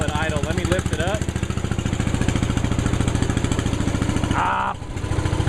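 A 1973 MW Gilson tractor engine cold-started on choke and left at idle, with a steady, close, rapid thumping beat running throughout and brief voices over it.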